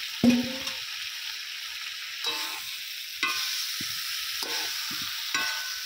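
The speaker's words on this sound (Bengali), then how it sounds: "মশলার সঙ্গে ফুলকপি আর আলুটাও খুব ভালো করে একটু কষিয়ে নেব।" Fried cauliflower and potato sautéed with spices in a pan: a low sizzle with repeated stirring strokes and scrapes every second or so, close up, no talking.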